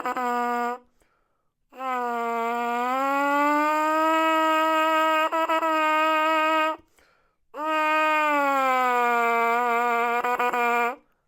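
A trumpet plays a siren exercise, sustaining a bright brass tone that sweeps slowly up and down in pitch, in three long phrases separated by short pauses, close and solo.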